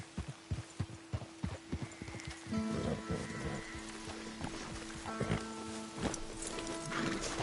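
Horse hooves clip-clop in a steady walking rhythm in a PS4 video game, with a horse whinnying partway through over a low ambient hum and faint background music.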